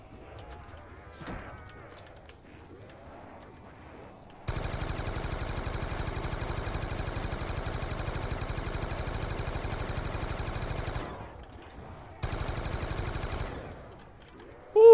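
Rapid automatic gunfire from a weapon in a Call of Duty zombies match on the Origins map rattles steadily for about six seconds, pauses briefly, then resumes in a shorter burst.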